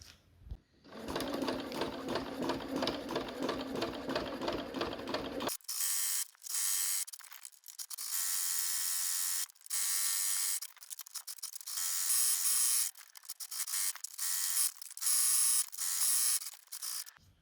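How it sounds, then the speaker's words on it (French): Sewing machine topstitching fabric for a freezer bag: a close, fast mechanical whirring stitch, steady at first, then broken into short bursts and stops as the seam goes along. "on va faire une surpiqûre tout le long et on en profitera du coup pour refermer l'ouverture ici"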